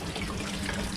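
A water tap left running pours a steady, continuous stream close by, a dense rushing splash with no talking over it.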